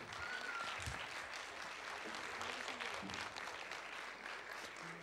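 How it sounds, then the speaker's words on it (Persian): Concert audience at a music school recital in Tehran's Azadi Tower applauding their children, dense continuous clapping with faint voices mixed in. "تشویق بفرمید فرزندان خودتون رو"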